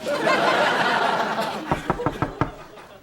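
A knock at the door of a house comes as a quick run of about five sharp raps near the end, following a stretch of laughter from a studio audience.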